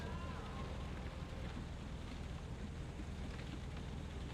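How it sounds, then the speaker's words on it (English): Heavy rain in the Shiraga - Ghost on the Shore video game, a dense, even hiss of downpour with a low rumble underneath, steady and unbroken throughout. "Okay, it's a heavy rain. No, not a storm."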